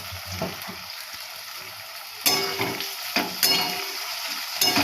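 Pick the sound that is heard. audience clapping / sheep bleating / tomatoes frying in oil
tomatoes frying in oil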